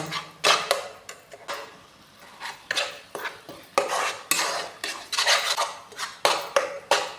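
Grated coconut and sugar are stirred continuously in a pan for coconut laddu, with a utensil scraping and knocking the pan in uneven repeated strokes, close by, with no voices.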